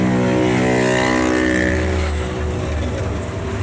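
Engine of an AS270 bus running on the road, a loud steady low drone with a constant hum that holds evenly throughout, easing slightly near the end.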